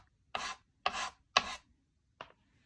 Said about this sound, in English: just rub it in real gently